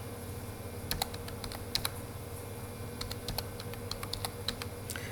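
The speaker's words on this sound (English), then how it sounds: "Then you can type your email." An email address is typed on a computer keyboard in quick irregular clicks, near and fairly soft, over a steady low room hum.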